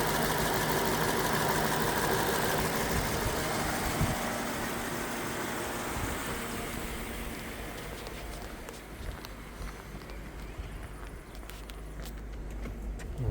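A Lexus LS 430 sits with its engine idling, a steady close-up hum with light ticking and faint knocking. A few footsteps and handling noises are heard as the sound fades slightly partway through.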